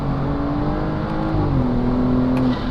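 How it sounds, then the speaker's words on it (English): A 600-horsepower car pulling hard in fourth gear, its engine a steady, loud drone rising gradually in pitch through the higher revs, heard close from inside the cabin with no talking. "Do another little fourth gear pull."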